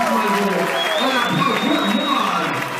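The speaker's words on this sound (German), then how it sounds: "Klatschen, wenn wir einen guten Kampf gesehen haben." An audience at an amateur boxing bout applauds after a fight, a dense steady clatter of clapping filling the hall, with crowd murmur and a voice talking over it.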